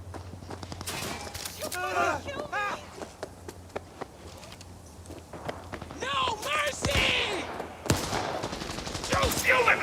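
Bursts of gunfire during a parade shootout in the video game Cyberpunk 2077, sharp rapid shots scattered across the clip, mixed with someone talking over the action.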